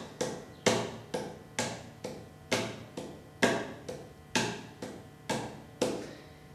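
Hands tapping a steady rhythm on a hard surface, about eleven evenly spaced crisp taps, each with a short decaying ring, close and quiet with no voices.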